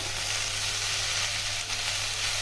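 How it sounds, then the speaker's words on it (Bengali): Tela kochu greens sautéing with turmeric and salt in a hot pan, a dense, even, close sizzle with no talk. "নুন হলুদের সঙ্গে ভালো করে এটাকে আমি কষাবো"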